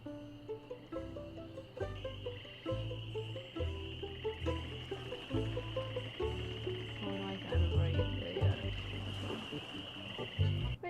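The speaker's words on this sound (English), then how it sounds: "There's a frog on the rock" Frog croaking in the video game Monkey Island 2, from a frog sitting on a rock, repeated croaks over a steady, busy game music bed with bass and a sustained high tone.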